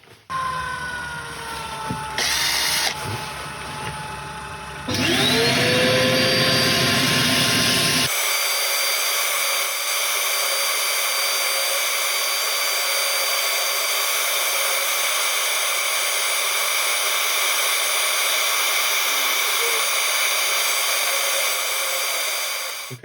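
An iroko and ebony woodturning spins on a lathe while being sanded, a loud steady motor whine with a bright high hiss that holds unbroken after a few short starts and stops.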